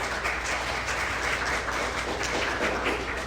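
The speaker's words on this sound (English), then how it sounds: "please give one more round of applause." Audience applause following a student speech at a youth convention, a steady dense wash of clapping that holds at even volume throughout with no voices over it.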